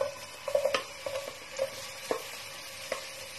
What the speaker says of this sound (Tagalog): Isasay lang natin po hanggang maging golden brown ang ating onion at garlic.